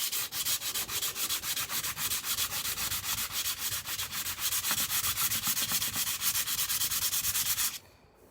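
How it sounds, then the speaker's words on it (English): Steady back-and-forth rasp of sandpaper on a block smoothing a wooden guitar neck made from construction scrap lumber, fast rhythmic strokes filling the clip loudly and close, ending abruptly. "I'm going to go back with sandpaper and a block."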